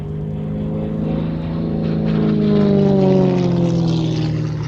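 A propeller aerobatic aircraft named Tigger performs at Sywell Airshow, its engine droning loudly and steadily with a rising, shifting pitch as it pulls up into a vertical climb.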